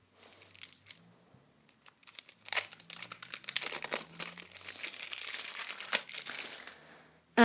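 Plastic wrap and cardboard packaging of a Bicycle Guardians playing card deck torn open, a run of crinkling, ripping and crackling bursts up close, getting busier toward the end.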